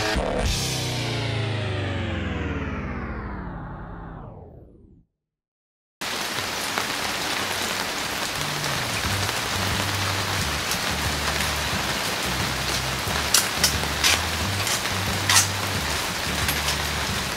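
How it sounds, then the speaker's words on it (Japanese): Heavy typhoon rain pours down outdoors as a loud, dense, steady hiss with scattered sharper drop hits. It follows a few seconds of a separate descending tonal sound and a brief silence. "台風来てて、めっちゃ雨降ってて"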